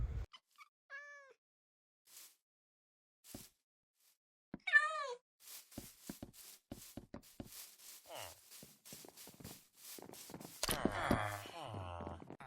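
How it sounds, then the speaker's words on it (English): Several cats in Minecraft meowing in short, separate calls, some rising and wavering, with quiet gaps between them and a brief burst of rustling noise near the end. "Here's some of my cats."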